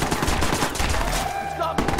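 Rapid automatic gunfire in the video game Watch Dogs, a dense, continuous clatter of shots filling the whole moment, with tonal game effects mixed underneath.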